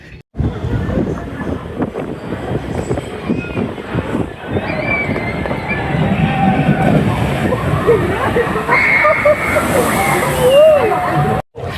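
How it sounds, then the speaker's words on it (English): Tidal Wave log flume at Thorpe Park, loud rushing and sloshing water with heavy wind buffeting the microphone as the boat plunges through, a rider's voice breaking in over the roar. "I love a log flume, so I'm super excited to get on this"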